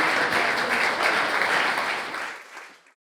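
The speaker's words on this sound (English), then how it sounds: "And continue your round of applause for that amazing panel." Crowd at the Australian Netball Awards 2022 continuing a round of applause for a panel, sustained dense clapping that tapers off and ends in silence near the three-second mark.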